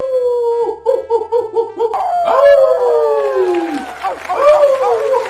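A man imitates a dog with his voice, giving a quick run of barks and then long sliding howls, loud and close.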